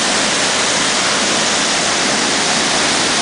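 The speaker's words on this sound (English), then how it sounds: "That is a lot of water coming out of there, man." Waterfall at Khao Yai National Park, Thailand, heavy water pouring down in a loud, steady, dense roar that fills the clip close by without a break, no voices heard.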